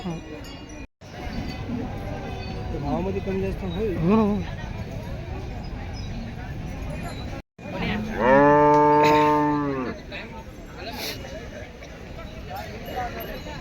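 Sahiwal cattle at a livestock market low repeatedly, including one long, strong moo, amid crowd noise and people talking nearby.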